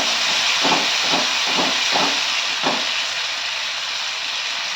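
A prepared paste of tomato, cashew and coriander leaves hits hot oil with sugar, whole garam masala, bay leaves and asafoetida, giving a broad hiss with a few sharp sizzling pulses that settles into a steady fry.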